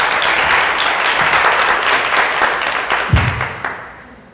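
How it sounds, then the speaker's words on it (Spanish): A Spanish-speaking church congregation gives loud, sustained applause that thins out and fades to near silence in the final second. "Den un fuerte aplauso al Señor."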